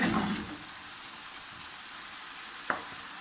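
Chicken pieces fry in a pan over high heat as their juices boil off, giving a faint, steady sizzle throughout, with a single small clink near the end.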